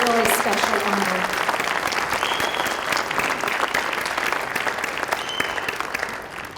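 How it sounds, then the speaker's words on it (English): A gala audience applauds in a steady, dense wave of clapping that holds for several seconds and fades slightly toward the end, with a voice briefly heard at the start. "Let's give her another round of applause"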